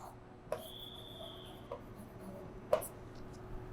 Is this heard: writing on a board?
yes